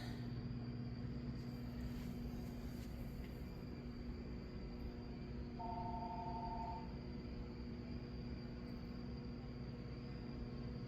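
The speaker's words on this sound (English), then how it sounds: "Don is here, so Don will get the phone." A telephone rings in a farmhouse-eclectic kitsch shop, heard as a single short electronic trill that rises briefly over a steady low background hum.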